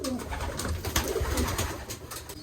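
Soft, low cooing of a Mussolini racing pigeon murmurs close by over a steady background rustle, with faint clicks scattered throughout.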